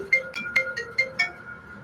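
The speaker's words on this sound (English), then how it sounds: "Let me answer this phone call." A phone rings with a repeating electronic melody of short bright tones, about six pulses in quick succession, clear and close with no talk.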